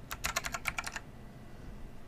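Rapid burst of typing on a computer keyboard, about a dozen close, crisp keystrokes over roughly one second, then quiet room tone with no voices.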